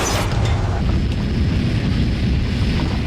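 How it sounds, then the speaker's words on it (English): A cargo door blowing out on United Airlines Flight 811 in a dramatized reenactment comes through as a loud, deep, continuous boom-like rumble that fills the whole stretch, with no voices. "I heard a thud."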